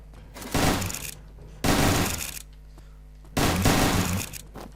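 Three separate loud bursts of rapid gunshots in Minecraft on the GTA-War server, each lasting about a second with short gaps of quiet between, close and punchy.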